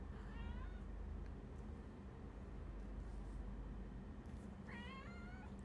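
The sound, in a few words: pet cat meowing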